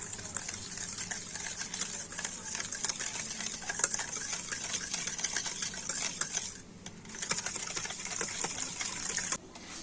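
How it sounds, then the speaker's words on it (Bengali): A hand blender whips oil, salt and other batter ingredients in a bowl, giving a steady high whirring drone with a faint liquid churn that runs almost unbroken, with brief cut-outs near the end. "আর এবার একটা ব্লেন্ডার দিয়ে সমস্ত উপকরণগুলো একটু ভালো করে ফেটিয়ে নেব।"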